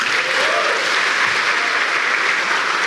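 An indoor audience at a comedy show claps together in a dense, sustained burst of applause, loud and close, without a break for the whole few seconds.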